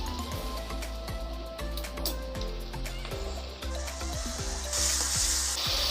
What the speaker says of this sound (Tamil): தக்காளி நல்லா ஃப்ரை ஆகட்டும்.